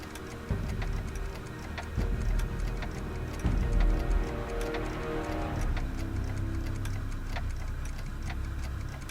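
A clock ticking in the Back to the Future video game, steady rhythmic ticks over a low humming room ambience and faint music, moderately loud and unbroken by speech.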